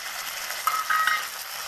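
Tomatoes dropped into a pan of browned onion, garlic and green chilli frying in oil, giving a brief steady sizzle with a few faint clinks of a utensil against the pan.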